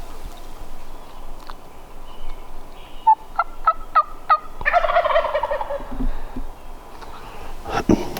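Wild turkey gobbler in the Black Hills gobbling in spring woods, a rapid rattling call with a few short notes before it, at mid distance and fairly clear over quiet outdoor background.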